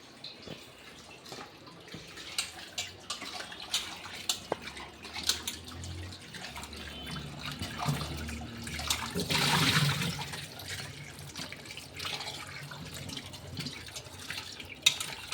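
Potatoes are rinsed in a pot of water at home, with splashing, dripping and sloshing that swells into a louder burst of running water midway, close and moderate in level.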